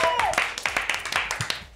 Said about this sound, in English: applaudissements pour un DJ qu'on aime